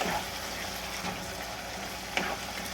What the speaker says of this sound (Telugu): కొంచెం అల్లం వెల్లుల్లిపాయ పేస్ట్ వేసుకొని బాగా మనం ఫ్రై చేసుకోవాలి.